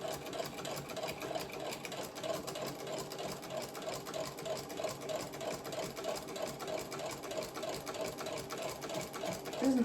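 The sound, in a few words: sewing machine running, sewing a blouse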